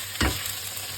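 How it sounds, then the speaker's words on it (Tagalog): Ingredients for fresh pancit are sautéed in a pan: a sharp hit of sizzle as food lands, then a continuous close frying hiss for the rest of the short moment. "Gisa muna."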